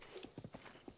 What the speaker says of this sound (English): is my new horse